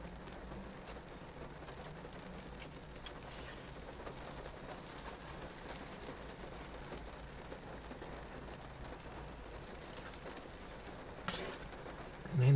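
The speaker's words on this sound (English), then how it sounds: "The ambiance of rain and wet roads." Steady rain patters on a car and hisses under the tires on wet roads during a rainy-day drive, a soft continuous wash that stays even and low throughout.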